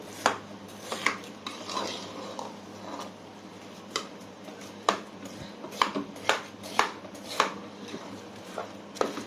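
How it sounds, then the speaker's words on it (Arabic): Meat and spices are stirred in a metal pot with sharp, irregular clanks and scrapes of a spoon against the sides over a low background hum, close and fairly loud, with no talking. "هنقلبهم مع بعض كويس عشان ايه البهارات تتقلب."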